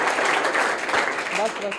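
Schoolchildren in a private school classroom break into a dense burst of applause for a classmate's correct answer, steady and fairly loud, with a voice briefly speaking over the clapping near the end.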